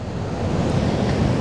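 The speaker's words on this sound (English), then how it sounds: "watching the waves as they're coming in" Big waves breaking and rolling in at Porthcawl, a steady roaring surf wash with wind buffeting the microphone, loud and continuous with no talk.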